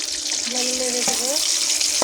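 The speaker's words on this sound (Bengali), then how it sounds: "হালকা করে ভেজে নেব।" Whole spices such as cinnamon and panch phoron fry lightly in hot oil for a cabbage curry, with a steady close sizzle and a couple of short stirring scrapes.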